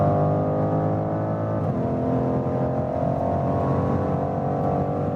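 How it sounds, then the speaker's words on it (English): BMW M550i with its V8 petrol engine in sport mode accelerating hard from inside the cabin, a loud, rising exhaust drone that briefly drops at a gear change, then climbs again. "Sport mode means we hear more from the exhaust."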